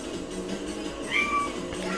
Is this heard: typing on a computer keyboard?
no